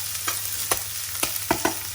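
Onions sizzle in a hot pan for butter chicken, with several quick stirring scrapes and clatters punctuating a steady frying hiss.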